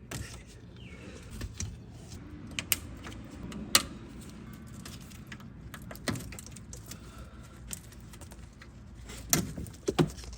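A right angle pick pries at plastic wire clips behind the front bumper of a Ford Ranger, giving scattered sharp clicks and small snaps close up over quiet background.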